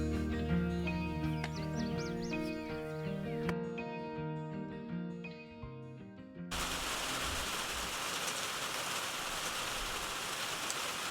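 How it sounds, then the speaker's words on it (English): Rain falling outdoors, a steady hiss of raindrops that takes over fully in the second half after a stretch mixed with tonal, bleating-like sounds. "I got rained out"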